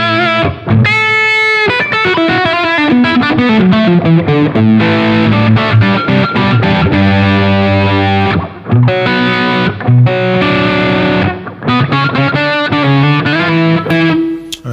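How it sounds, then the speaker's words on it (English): An electric guitar runs through a Tech 21 Richie Kotzen RK5 Fly Rig with the reverb size turned up toward a hall-like space, playing loud, continuous distorted chords and lines whose notes ring and trail off, with no talking. "The reverb is you can actually adjust the size of the reverb to more of like a hall type or a room type reverb."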